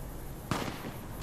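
A single sharp gunshot rings out in the video game Fallout New Vegas: Honest Hearts. It is a sudden crack that fades quickly into steady, noisy game ambience.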